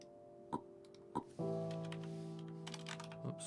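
A few sharp clicks of typing on a computer keyboard, tapped in short bursts while playing One Hour One Life, close and fairly quiet, followed by a sustained layered in-game tone.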